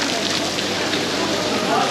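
Heavy thunderstorm rain at the Dubai Gold Souk: a dense, steady, loud hiss of downpour, with crowd voices mixed in throughout.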